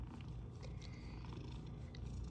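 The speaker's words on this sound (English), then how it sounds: "Meowing and purring, huh?" A Munchkin cat purrs softly and steadily up close, a faint continuous low rumble with no other clear sounds.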